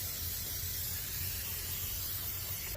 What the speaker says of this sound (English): you're gonna clean all this rust with a wire brush and with brake cleaner